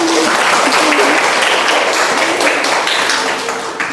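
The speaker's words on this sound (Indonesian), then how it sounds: "kita beri tepuk tangan untuk teman kita" Classroom group in an academic supervision coaching session applauds a classmate, a close burst of brisk clapping with individual claps standing out, fading a little at the end while faint voices and a hum sit underneath.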